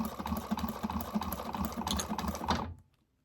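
A sewing machine stitches in a rapid, even mechanical rhythm of clicking needle strokes, close and continuous, then stops abruptly into near silence.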